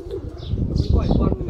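A Lakha pigeon, a breed of Indian pigeon, gives soft, low cooing murmurs close by, with rustling and faint chirps in the background.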